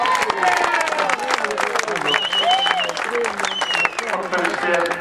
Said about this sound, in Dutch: Korte applaus graag